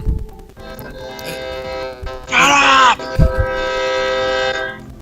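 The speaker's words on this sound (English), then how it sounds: "here comes the train break. Because it's sad. Because I live next to one." A loud, long train horn blasts and is held, then blows again, with rumbling engine noise underneath.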